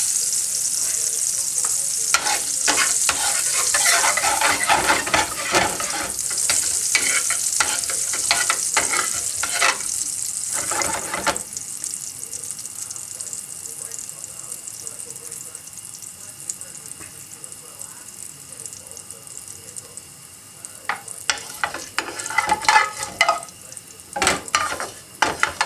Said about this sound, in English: See the heat's right because it's sizzling and popping as soon as they go in.